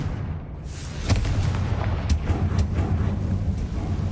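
A Confringo blast spell goes off in a video game, a dull booming burst around the one-second mark followed by a rumbling, crackling wash and a few sharper pops, loud and close with no talk over it.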